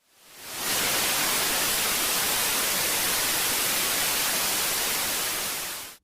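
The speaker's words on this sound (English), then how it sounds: "That intense white noise is coming from a test burn of an exceptionally energetic biosynthetic jet fuel." Test burn of an exceptionally energetic biosynthetic jet fuel: an intense, steady roaring hiss swells up within the first second, holds loud and unbroken, then cuts off abruptly.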